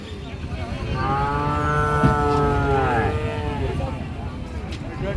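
A cow gives one long, loud low moo up close at a cattle market, with background crowd noise and voices.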